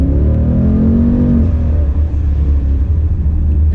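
A car engine revs hard under acceleration, climbing in pitch before settling into a steady, loud, close-up roar with a low rumble and no talking.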